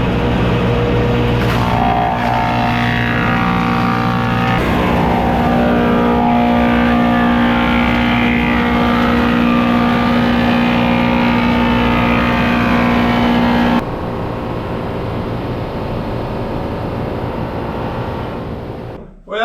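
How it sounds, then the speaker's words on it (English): An electric sander runs on maple butcherblock boards with a loud, continuous motor whine that drops to a quieter hum partway through before stopping. "Well, that sander makes a mess"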